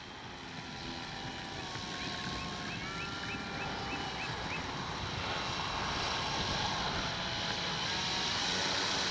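An RC F4U Corsair warbird model taxiing around a circle, its motor a steady, fairly loud droning buzz that holds and slowly swells, with wind rushing over the microphone and no talking.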